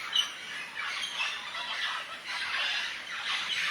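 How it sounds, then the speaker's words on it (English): Parrots squawking loudly in mountain bushes in Belize, a dense run of harsh, repeated calls close by with no talk. "There's a lot of parrots."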